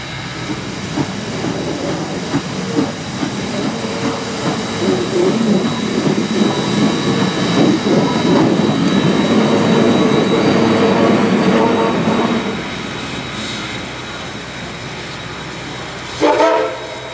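Woodstown Central Railroad steam engine No. 9 sets off with its train through rural New Jersey toward Swedesboro, a loud, rhythmic chuffing and rumble building and holding before easing off, then a brief sharp burst near the end.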